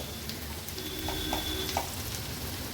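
Masala sautés in a pan for a spicy egg fry, giving a steady, close sizzle with a few soft stirring taps over the continuous hiss.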